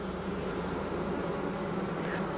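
Honey bees hum in a hive during an inspection of strong colonies working goldenrod, a dense, steady drone that fills the whole stretch, close and unbroken, with no voices.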